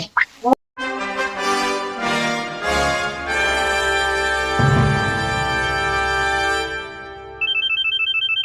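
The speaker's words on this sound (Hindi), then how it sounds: "दरोगा जी का फोन आ रहा है" A loud electronic phone ringtone in a Hindi comedy-action film plays a bright melodic tune continuously, close and clear, ending with a repeating beeping pattern.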